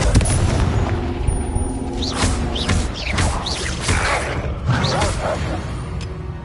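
Repeated Confringo blasting spells in the Hogwarts Legacy game, a string of sharp booming impacts and whooshes over a loud, constant battle din.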